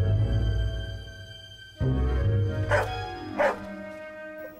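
Dog barking in a video game, with a few close, sharp barks and yips over steady tonal background music.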